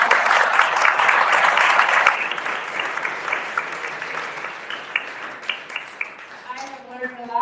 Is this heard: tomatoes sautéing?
no